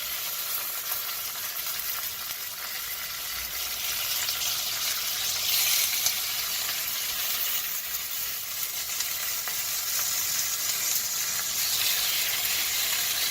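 Oil sizzling and spitting in a Finex 10-inch cast iron skillet, a steady close crackling hiss with small swells of spatter throughout.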